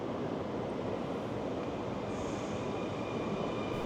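Trains at Rotterdam's main railway station, a continuous loud rumble of rolling rail cars with a faint high squeal of wheels above it, steady throughout with no voices.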